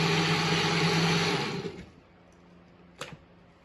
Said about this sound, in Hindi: और अब हम इसे ग्राइंड कर लेते हैं।